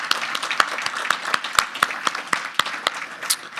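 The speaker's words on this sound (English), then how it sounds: "please quickly give a round of applause for their support" A town hall audience gives a round of applause, dense clapping from many hands filling the room at a steady level throughout.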